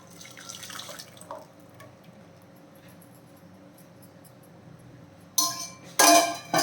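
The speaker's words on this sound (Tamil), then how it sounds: "இதை நாம் வேறொரு பேனில் வடிகட்டி எடுத்துடலாம்" Hot melted jaggery syrup strained into another pan for a sweet recipe: a soft pouring trickle runs under faint room noise, then sharp metallic clinks of pan and strainer ring out near the end, close by.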